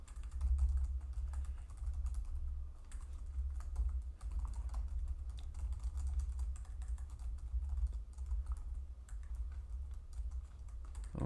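Someone types C code on a computer keyboard, a steady quiet patter of key clicks with brief pauses against a low background hum.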